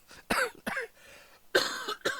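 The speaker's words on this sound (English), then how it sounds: "I'd have to excuse the cough" Several sharp coughs in two bursts, close and fairly loud, with a short quiet pause between them.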